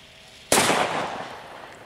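A TC15 firecracker goes off outdoors with one sharp, loud bang that rings out in a long echoing tail. No other sounds compete with it.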